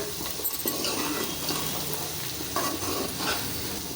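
Duck pieces stir-fried and roasted in a pan give a dense, continuous sizzle close up, with the scrape and clatter of a spatula stirring against the pan throughout.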